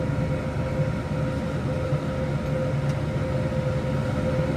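Tractor running a PTO-driven hay mower slowly through second crop hay, a steady droning engine and rumbling machinery hum with no pauses, heard from close by.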